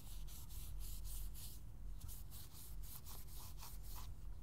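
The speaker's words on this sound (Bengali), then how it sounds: "মেটে আলু, এই মেটে আলুটাকে টিস্যু পেপার দিয়ে আমি ঘষছি।" A yam is rubbed with oil-soaked tissue paper, giving a quiet, close, rhythmic scrubbing with repeated short strokes that pause briefly midway and then resume.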